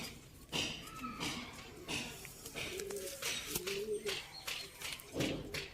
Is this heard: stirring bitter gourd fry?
no